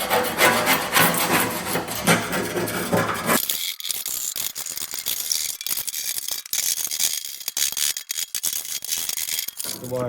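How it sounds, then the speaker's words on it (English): A John Deere LA165 lawn tractor's mower deck is scraped by hand, a run of close, rough rasping strokes in irregular rhythm after a few seconds of louder mixed noise. "I'm just gonna scrape off the mower deck here."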